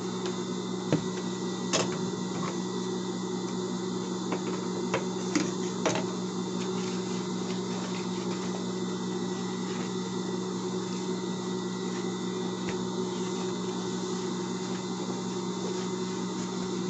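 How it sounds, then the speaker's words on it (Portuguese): An overlock sewing machine runs continuously while stitching the roof of a fabric pet bed, a steady mechanical hum with faint rapid ticking and a few sharp clicks near the start. "O nosso telhado nós vamos passar no overlock."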